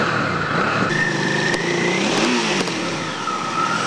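Motorcycle engines roar and rev in a two-wheeler convoy passing through Cherkasy on the way to Kirovohrad, a dense, loud mechanical drone with rising and falling throttle sweeps and no voices.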